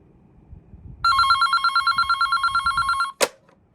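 An emergency ringer on a vintage AT&T landline phone rings loudly and close in a fast, even trill lasting about two seconds, then cuts off with a short clunk.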